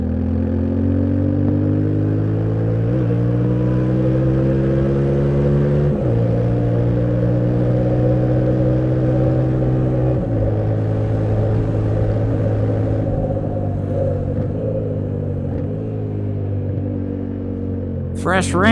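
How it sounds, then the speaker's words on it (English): A Yamaha Tenere 700 twin engine pulls hard through the gears on a wet road, a loud steady drone rising in pitch with brief dips at each shift, heard close from the rider's position. "It's the best part about this bike, is the way this engine pulls."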